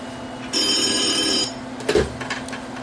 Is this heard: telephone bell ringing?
yes